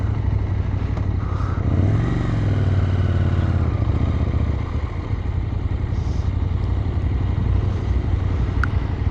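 A KTM 890 SMT motorcycle with a Remus aftermarket exhaust rumbles and revs with a deep, throaty exhaust note, rising briefly then settling into a steady idle-like growl.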